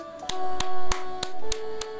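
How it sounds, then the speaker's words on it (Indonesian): Six sharp hand claps ring out at a steady, even pace over a sustained background tone, the kind of looping music that plays at a video game's ending. "Tepuk tangan buat kita semua, bro."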